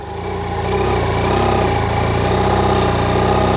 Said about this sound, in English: So I just use the motor to slowly spin the wheel, to winch in the cable, to pull out the bike.